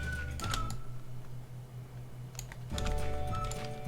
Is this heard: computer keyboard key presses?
yes